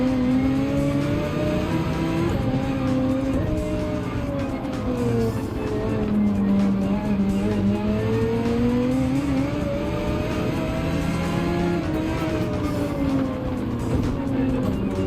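Race cars in Gran Turismo 7 on the Gilles Villeneuve circuit, among them a Citroen, engines whining steadily and rising and falling in pitch as they pass, with a hint of tire squeal, loud and continuous, with no voices.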